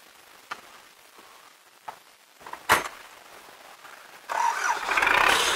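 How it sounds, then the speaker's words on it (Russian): An MTZ-80 tractor engine, just after injection pump repair, is cranked with a few scattered knocks and clatters, then catches and breaks into a loud, steady, rough running roar for the final second or so. "Цепляй, заводи трактор."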